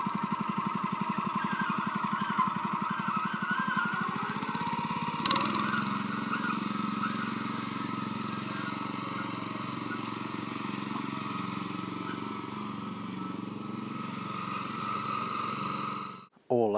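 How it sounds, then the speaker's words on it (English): A cylinder lawn mower engine drones steadily nearby, its revs dipping as it goes around a mailbox and then picking back up, before cutting off abruptly near the end. "you'll hear the drop in the revs as I'm going around this mailbox"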